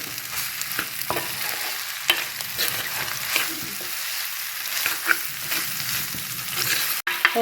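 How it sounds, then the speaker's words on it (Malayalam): Pomegranate pickle mixture sautéing in a pan, a steady close sizzle with repeated scraping stirs and occasional clanks of the spoon, no voices. "കുറച്ച് കൂടുതൽ നേരം നമുക്ക് ഇങ്ങനെ വഴറ്റിയെടുക്കാം അപ്പോഴാണ് ഇതിൻ്റെ ടേസ്റ്റ് നന്നായി വരുന്നത്"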